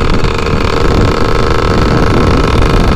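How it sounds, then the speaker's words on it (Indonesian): A two-stroke Yamaha F1ZR motorcycle engine runs hard while riding, a loud steady buzzing drone with heavy wind rush over the microphone and no voices. "Enaknya motor dua tak tuh begitu"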